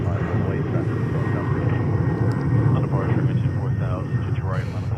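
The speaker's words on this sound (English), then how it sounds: "Delta is clear for takeoff" A Delta airliner roars on takeoff at JFK airport, its broad, steady engine rumble filling the scene at close to moderate distance while people talk over it.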